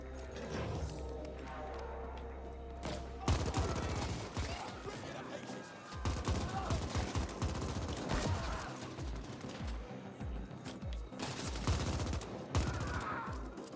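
Turret gunfire in the video game The Ascent: a low steady hum for about three seconds, then loud, dense bursts of rapid shots and crashing impacts that continue almost without pause.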